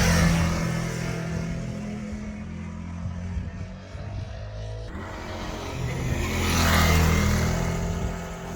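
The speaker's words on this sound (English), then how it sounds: "Unperturbed, Fred leaped back onto the bike and made it back up the hill for another drive-by shot." A motorbike engine drones steadily on a hill road near Tafraoute, Morocco, its note rising as the bike swells closer around the midpoint and passes, then easing off, with no voices over it.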